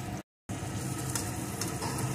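Green chillies fry in a pan with a steady, close hiss and crackle, cutting out to silence for a quarter second before the sizzle resumes unchanged.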